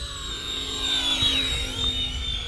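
An RC Era C190 brushless scale RC helicopter flying nearby, giving a steady high-pitched rotor whine with a faint low buzz underneath, rising and falling slightly as it hovers without voices.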